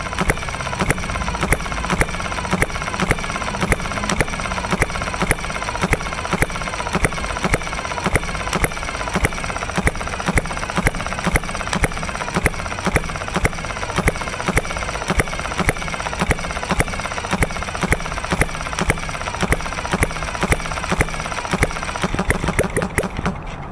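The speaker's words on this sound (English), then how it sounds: "Running at full bore like that can help dry the cylinder out a little bit" The HM 01 engine runs flat out on a cold day, giving a loud, rapid, steady pulsing beat that holds evenly for the whole stretch with a slight change right at the end, close to the microphone.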